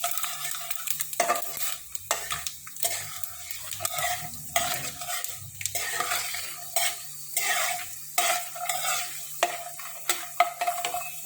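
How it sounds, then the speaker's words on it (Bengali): Peanuts frying with black cumin seeds in a pan, a soft sizzle broken by repeated scraping stirs of a utensil against the metal, close and fairly quiet, with no talk. "বাদাম ভাজা হয়ে গেছে, এই যে কালো জিরা দিয়ে দিলাম"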